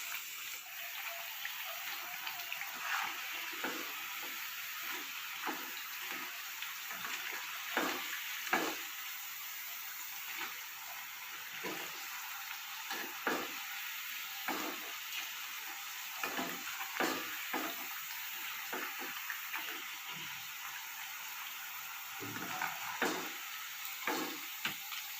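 Raw plantain slices fry in oil in a pan with a steady, close crackling sizzle and frequent sharp pops throughout, and no voices.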